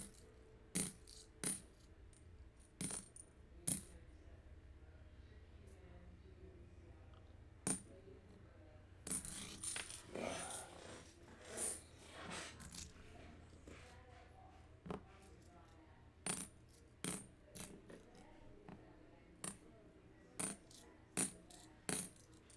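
Quarters are dropped one at a time onto a pile of other coins to test for silver, producing a sharp metallic clink at irregular intervals, close and crisp, with a cluster of rattling coins in the middle.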